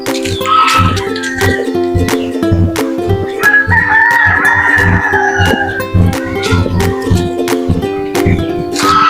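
Native chickens cluck close by in a rural yard while a rooster crows loudly several times, with busy overlapping fowl calls throughout.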